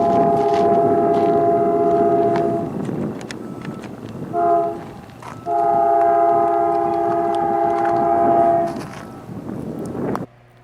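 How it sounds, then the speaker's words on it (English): A train horn sounds from a distance in loud, sustained chords: one long blast, a short toot, then another long blast, over a low rumble. "I really like the sound of the horn coming from the distance like that"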